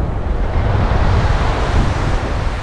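Sea waves wash continuously onto the white sand of Dinadiawan beach in Dipaculao, Aurora, a steady loud rushing surf with wind buffeting the microphone and no voices.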